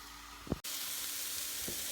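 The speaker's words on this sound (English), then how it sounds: "So now I'm just going to kind of saute this all together." Riced vegetables sautéing in a pan, a bright steady sizzle close up, with a couple of soft stirring scrapes and a brief sharp knock partway through.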